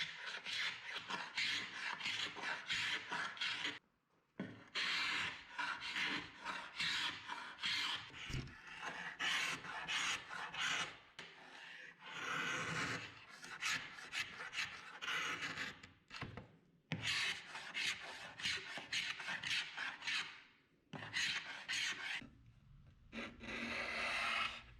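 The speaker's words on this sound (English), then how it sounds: "The finish on the top is so brittle, I'm going to use my scraper to scrape it off." A hand scraper rasps repeatedly across a Broyhill Brasilia furniture top, flaking off a brittle old finish in close, rough bursts of scraping with short pauses between strokes.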